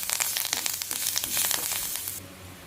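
Curry leaves, dried chilli, fenugreek and asafoetida crackle and sizzle in hot oil as a tempering for paruppu kulambu, a steady dense frying hiss up close with no voices.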